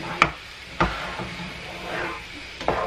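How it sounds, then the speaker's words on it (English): Metal spatula scraping and tapping in a pan while stirring fluffy scrambled eggs made with milk, giving three or four sharp separate knocks over a soft sizzle, close and fairly quiet. "So I'm gonna use my spatula to kind of mix it."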